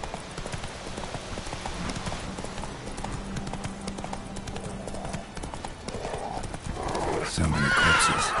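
Roach, a horse in The Witcher 3, gallops with rhythmic clip-clopping hooves and gives a whinny near the end, with a voice and light rain in the background.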